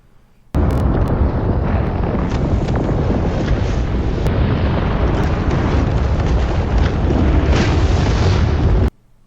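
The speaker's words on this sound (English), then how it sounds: "These must be the atomics. The torpedoes. Warheads." Atomic warhead explosions from the film Dune Part Two, heard as a loud, sustained roaring blast with a deep rumble that runs unbroken for about eight seconds before cutting off abruptly.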